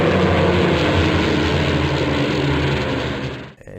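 Junkers Ju 52 aircraft engine drone, a loud steady propeller roar that holds evenly and then drops away abruptly near the end.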